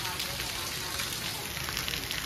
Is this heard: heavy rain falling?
yes